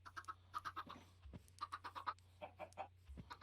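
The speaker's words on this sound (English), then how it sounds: "Them chickens are noisy." Chickens in the Minecraft game cluck in a steady run of short repeated calls, moderately loud and alone, with a low constant hum underneath.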